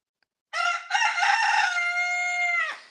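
A rooster gives one full, loud, close crow, a brief opening note followed by a long drawn-out call of about two seconds, with silence before and after.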